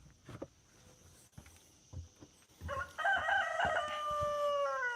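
After a few knocks and thuds from firewood stacking, a rooster crows loudly and nearby, one long drawn-out call that carries to the end.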